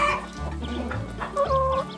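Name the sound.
chickens clucking, Polish hens, Sura and bantam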